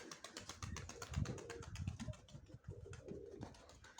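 Pigeons coo softly and repeatedly at close range with a low, throaty burble, while faint rapid clicks and flutters sound through the quiet surroundings.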